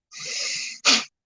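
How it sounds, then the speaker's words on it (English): Breath of fire practice: an airy inhale followed by one sharp, forceful exhale through the nose, close and alone. "So this is just in through the nose and then sharp exhales, pumping with your belly, with your diaphragm."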